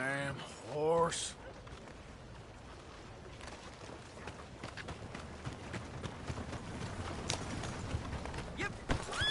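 Rapid, rhythmic hoofbeats of a horse on the move in the video game Red Dead Redemption 2, a steady clip-clop continuing throughout after a brief voice at the start.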